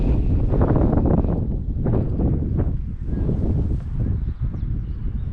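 Strong wind gusts buffet the microphone on the hilltop summit of Roche à Lomme in Viroinval, Belgium, a loud, steady roar with rumbling low-end rushes, no voices heard.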